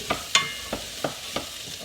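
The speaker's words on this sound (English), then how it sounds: "Can't beat frying onions, can you?" Onions crackle and sizzle in a hot pan under a steady hiss, with several sharp clicks of a utensil stirring at regular intervals.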